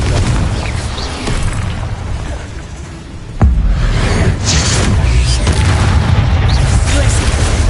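A Confringo blast in a Harry Potter video game lands as one sudden loud boom partway through, over a continuous roar of game effects and music. Spell-casting voices are present throughout.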